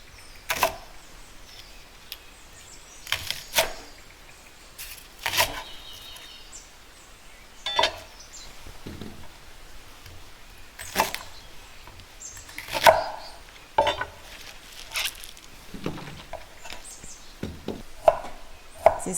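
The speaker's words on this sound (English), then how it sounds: "Cut spring onion in about 2-inch sizes." A knife chopping onion and spring onion on a cutting board, heard as scattered, irregular clusters of sharp taps spread across a quiet background, fairly close and moderate in loudness, with no talking.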